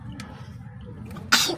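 A single sharp sneeze bursts out at the very end, loud and close, after a stretch of quiet low background hum.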